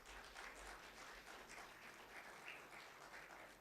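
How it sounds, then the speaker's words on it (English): Steady, sustained applause from a large conference audience at an electronics engineering event, a dense continuous wash of clapping at a moderate distance with no voices on top. "A huge round of applause."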